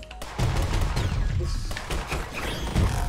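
A shot fires in the video game One Step From Eden: a loud, dense run of thumping, gunfire-like impacts and bangs that continues through the whole stretch, with a heavy hit at the start and another near the end.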